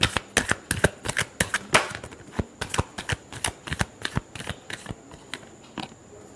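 Tarot cards shuffled in a final riffle before a reading, a rapid run of crisp, close flicks and slaps with a brief flurry near the middle, alone and fairly quiet.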